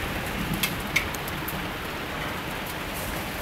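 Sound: rain falling on a rainy Sunday barbecue

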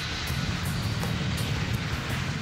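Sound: Lockheed C-5 Galaxy military transport aircraft

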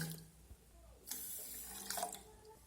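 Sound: water poured into a bowl of sugar for syrup

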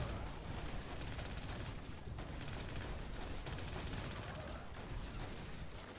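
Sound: gunfire from bots in the video game Destiny 2

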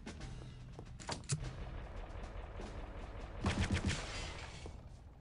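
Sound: shooting posters in the video game Return to Castle Wolfenstein

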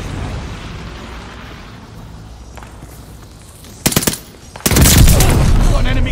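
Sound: mortar barrage explosions in Call of Duty: Vanguard video game

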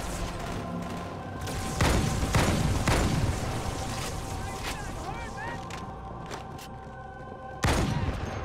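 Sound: gunfire in the Halo video game

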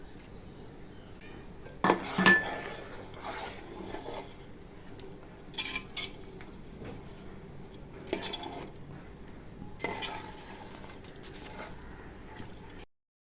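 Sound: stirring in a pot with a utensil

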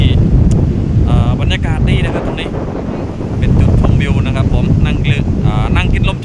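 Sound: wind by the sea at Laem Son beach, Rayong

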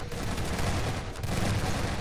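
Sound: repeated shotgun fire in Lambda Wars video game

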